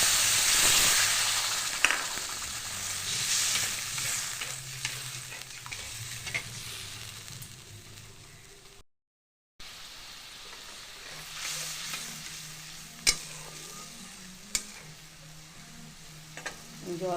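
A bowl of water poured into fish masala being fried in a pan, an intense hissing sizzle that settles into steady bubbling with stirring scrapes and occasional sharp clinks of a utensil, close up.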